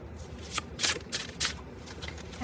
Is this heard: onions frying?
no